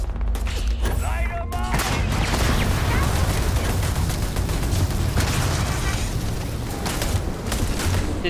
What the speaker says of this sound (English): Did not mean to cause such a mass explosion.